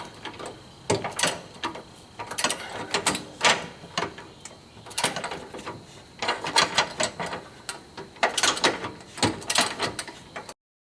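A ratchet wrench loosens a 22 mm bolt on a Jeep JK, giving repeated bursts of quick clicking pawl ratchets in an uneven rhythm, close and fairly loud, with no talk.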